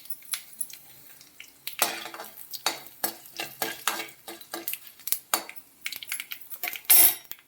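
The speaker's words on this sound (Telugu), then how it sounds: "ఒట్టిమిరపకాయలు వేసుకోండి తుంచుకొని." Broken dried red chillies fry in oil for a tempering while a utensil stirs and scrapes the pan, giving irregular clinks and bursts of sizzle, close and fairly quiet.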